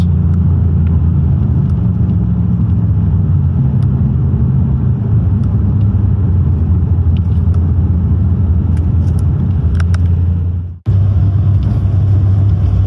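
An Audi RS6/RS7/S8 D4 with a stage 1 tuned ZF 8HP55 eight-speed automatic gearbox rumbles steadily from inside the car, with slight pitch shifts and a brief abrupt dip near the end as it shifts gears.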